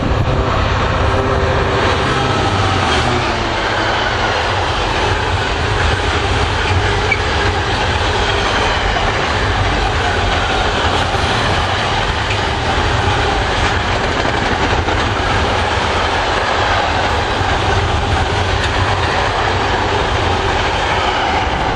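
A Class 66 diesel locomotive hauls a train past Werrington Junction with a loud, continuous roar and rumble, and wheel noise and a faint squeal carry on close by, without a break, the whole time.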